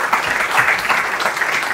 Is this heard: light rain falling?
no